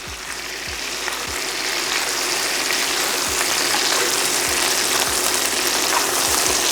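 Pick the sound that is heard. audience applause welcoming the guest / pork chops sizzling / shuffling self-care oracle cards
pork chops sizzling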